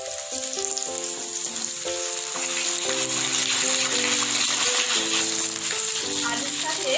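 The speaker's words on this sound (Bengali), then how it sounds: "আলুর সাথে মুলো আর শিমটা একটু ভেজে দেবো।" Radish and flat beans fry with potatoes in a pan for a vegetarian dish, giving a steady bright sizzling hiss throughout, with melodic background music playing underneath.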